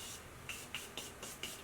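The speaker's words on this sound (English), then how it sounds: "I'm going to go ahead and set it with my Morphe setting spray." A Morphe makeup setting spray bottle is pumped five times in quick succession close by, each pump giving a short airy hiss over a faint background hiss, with no talking.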